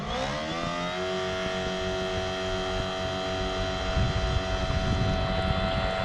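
ECHO 58V powerhead motor on a Kayakbuddy engine leg driving an 11 ft Cobra Explorer kayak on a lake, a steady close motor whine with constant pitch, water wash and wind buffeting, no voices.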